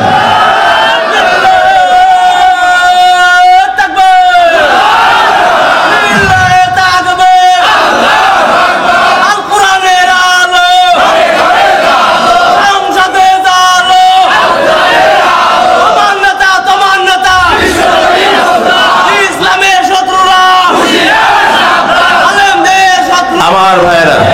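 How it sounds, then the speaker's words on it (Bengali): A large crowd at an outdoor Islamic religious gathering (mahfil) chants takbir in loud, repeated rhythmic shouts, surging in waves over a preacher's amplified voice. "তাকবীর দিয়ে আল্লাহকে জানিয়ে দেন"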